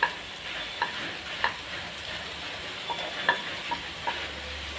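Chopped tomato sautés in a pan with a soft, steady sizzle and a few light stirring clicks, heard close and alone without talk.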